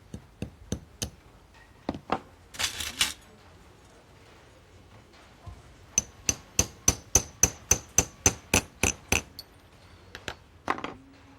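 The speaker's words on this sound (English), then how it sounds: "Once I hammer it in place, it will be really strongly and tightly in there." Small hammer tapping a brass bush into a clock pivot hole at a workbench: sharp metallic taps in short bursts, then a long even run of about a dozen quick strikes, close and clear in a quiet room.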